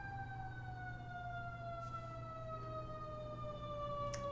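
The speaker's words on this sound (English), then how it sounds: "there's a siren going by." An emergency vehicle siren passes outside, a steady falling wail with harmonics sliding slowly downward, distant and faint over constant low hum.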